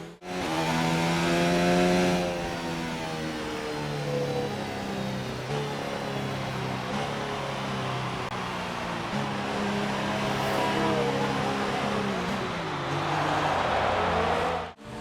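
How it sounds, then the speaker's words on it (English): Williams Formula 1 car in the F1 2019 racing game at the Mexican Grand Prix, engine screaming at full power, loud and sustained with rising pitch sweeps through upshifts down a straight. "Using all the engine power this Williams has"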